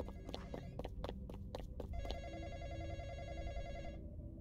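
A telephone rings inside the Roblox horror game The Night Shift, a steady electronic bell tone held for about four seconds after a few sharp chimes and footsteps, with game ambience underneath and no talk.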